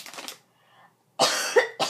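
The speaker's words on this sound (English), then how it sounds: "Man, why am I coughing?" Two harsh, close coughs, the first brief and the second louder and longer, separated by near silence.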